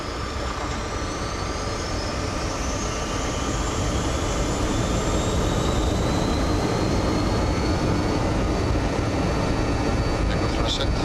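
An Albanian Airlines BAe 146-300 four-engine jet rolls for takeoff on runway 18, its engines roaring steadily with rising whine tones heard from the cockpit, while crew voices speak over the noise.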